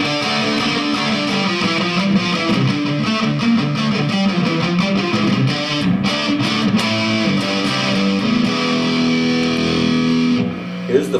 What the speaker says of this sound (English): The heavy metal sound would be like the distortion sound like this.